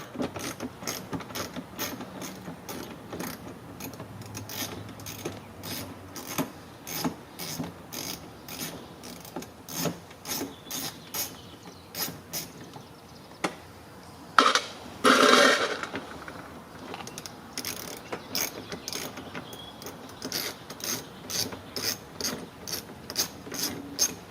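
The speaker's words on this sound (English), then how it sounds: "You can see we need to remove that bolt there." A ratchet wrench removing a bolt from a car bumper mount on a Lincoln MKX, heard as rapid repeated clicking bursts close by, with a brief louder mechanical rasp midway.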